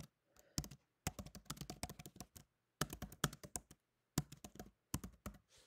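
Someone types a short commit message on a computer keyboard, bursts of quick close key clicks broken by brief pauses, with no talk over it.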